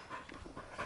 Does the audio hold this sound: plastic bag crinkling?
no